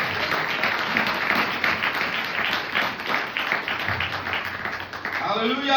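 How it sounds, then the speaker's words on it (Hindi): A church congregation at a Good Friday service claps together in a steady, sustained burst of applause, fairly loud and even throughout. "ताली जाए प्रभु यीशु के लिए।"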